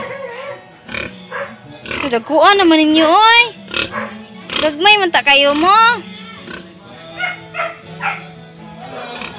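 Pigs grunt and squeal nearby in short loud bursts while a person talks over them, with farmyard background noise.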